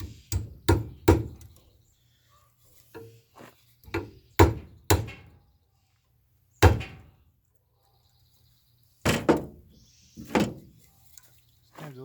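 A Spencer tape refill device clamped in a vise is whacked into place, giving a series of sharp, loud knocks and thuds in irregular clusters separated by quiet gaps.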